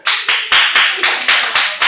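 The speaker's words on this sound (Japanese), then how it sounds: "拍手" A group claps in unison, sharp synchronized claps at a quick steady beat, loud and close, about eight beats.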